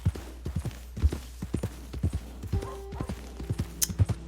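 Horse hooves clip-clop in Red Dead Redemption, a steady, evenly paced walking rhythm of distinct hoof strikes on hard ground, close and clear with faint background ambience and a brief tonal sound midway.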